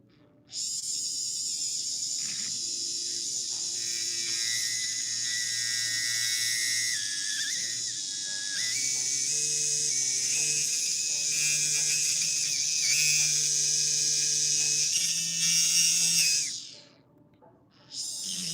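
Rotary tool with a worn burr grinding metal during jewelry stone setting, a high, steady whining drill tone sustained close-up for many seconds, dipping briefly near the end before restarting.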